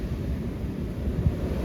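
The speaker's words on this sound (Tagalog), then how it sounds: "Grabe hangin guys." Strong wind roaring steadily during a snowstorm beside a road with passing vehicles, a dense low rumble of gusts buffeting the microphone without pause.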